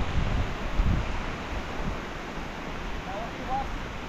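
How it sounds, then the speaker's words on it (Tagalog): Strong wind gusts outdoors during a rainy storm, a loud, rough roar buffeting close to the microphone, strongest in the first second and then easing to a steady rush. "Lakas ng hangin."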